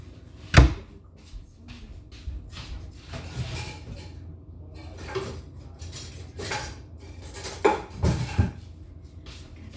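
Glass measuring tablespoons and pans clinking in a home kitchen, scattered sharp clanks and rattles with a few louder knocks, close and irregular, no talking.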